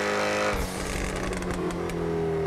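A supercar in GTA Online rumbles at a steady engine drone, then short exhaust crackles pop in a quick cluster in the middle, each lasting well under a second, before the engine settles back into a smooth hum.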